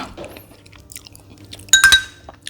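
Durian of the Monthong variety from volcanic soil, eaten with coconut sticky rice drenched in coconut cream, gives soft close-up chewing with a burst of louder crunchy bites near the end.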